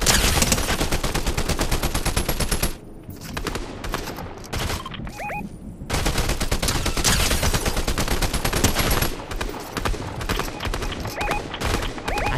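Rapid bursts of gunfire from the Fortnite video game, loud and dense, dropping to a sparser patch of scattered shots midway before the heavy firing returns.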